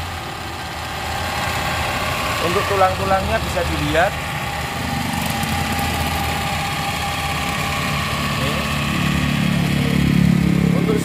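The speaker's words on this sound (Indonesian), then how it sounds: "Ini mobil ini penggerak belakang 4 silinder 1600 cc. Suara mesinnya juga masih halus." A 2004 Suzuki Escudo with a manual gearbox, rear-wheel drive and a 1.6-litre four-cylinder engine idles smoothly, with a steady low hum running close by beneath someone talking.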